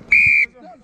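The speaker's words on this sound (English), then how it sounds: "You got it down after the whistle blew." A referee's whistle gives one short, shrill blast during an under-23 rugby match, loud and close, with a faint hum of activity around it.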